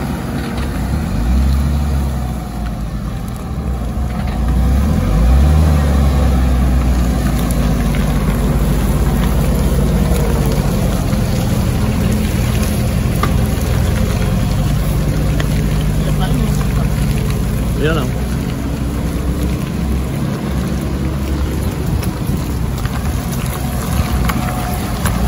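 An off-road vehicle stuck in a deep mud hole at night sends out a loud, steady engine drone that rises and holds, mixed with heavy wind buffeting, while voices talk over it.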